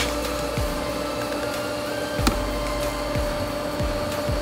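A power grinder works down a pinhole leak area on a pool pump, giving a steady, loud whirring whine with a faint rising tone and small scraping bursts, and no voices.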